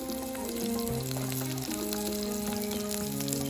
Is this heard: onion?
yes